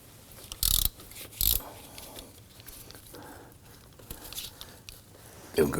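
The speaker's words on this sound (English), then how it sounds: "I'm gonna go ahead and use my regular ratchet with this one to break this one free." A hand ratchet clicks in short bursts as it breaks a bolt loose on a Volvo XC90 engine during a serpentine belt tensioner job, with quiet fumbling and faint mechanical rattles between the sharp bursts.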